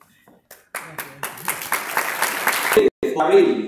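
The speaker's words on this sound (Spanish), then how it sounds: "Fuerte aplauso" Scattered claps build quickly into steady applause from a crowd, with a brief break near the end before clapping resumes.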